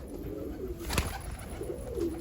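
A rooftop-flying pigeon coos softly nearby, a low, muffled call rising briefly midway against steady background hiss.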